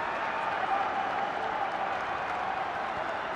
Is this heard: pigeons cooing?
no